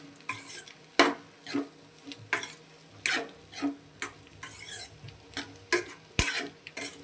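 A spoon stirs blood fry curry in a pan, scraping and clinking against the metal in a regular rhythm of about one stroke per half second, close and distinct over a faint sizzle.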